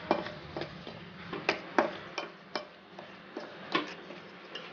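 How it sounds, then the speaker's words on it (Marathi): A spoon clinks against a bowl while coriander, turmeric and cumin powders are mixed together, giving irregular light taps and scrapes, close up and quiet. "तर आता आपण या सर्व मसाल्यांना मिक्स करून घ्यायचं आहे."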